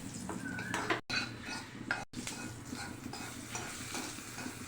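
Mustard seeds and curry leaves fry for tempering in a hot pan for mango chutney, a crackling sizzle mixed with stirring scrapes and light clinks of a utensil against the pan, broken by two brief dropouts.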